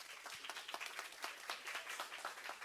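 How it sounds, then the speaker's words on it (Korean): An audience at a closing ceremony for a climate and environment leadership course claps steadily in a hall, with moderate, fairly distant applause and individual claps audible throughout. "모두 큰 박수로 맞아주시기 바랍니다."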